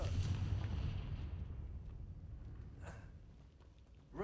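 A Confringo blasting spell explodes in a video game: a loud, rumbling burst at the start that slowly decays into a low roar, with a faint swish near the end.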